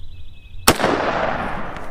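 AK rifle firing a single FMJ round into ballistics gel outdoors, one sharp loud crack after a faint tone, followed by a long decaying rumble and echo.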